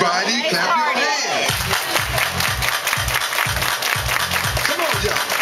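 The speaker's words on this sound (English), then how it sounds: "Everybody clap your hands." A wedding dance crowd claps hands together in a steady rhythm, loud and near, under music, chatter and a leader calling out to the dancers.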